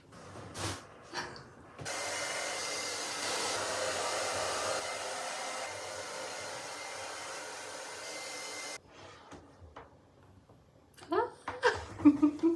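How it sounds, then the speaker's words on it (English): A hair dryer blows hair dry for several seconds, a steady, moderately loud whoosh that starts and stops abruptly, bracketed by quiet handling noises and a voice speaking and laughing afterward. "We are first gonna start by blow drying my hair."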